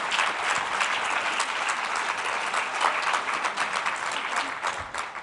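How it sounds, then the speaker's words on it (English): A steady, full round of applause from an audience at an education workshop, many hands clapping continuously and evenly throughout before easing slightly at the very end. "Give yourself a round of applause."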